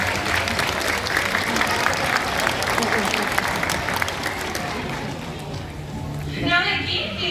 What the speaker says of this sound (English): Let's give her a big round of applause, everybody.